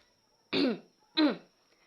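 Two short, harsh coughs, evenly spaced and close, with near silence between them.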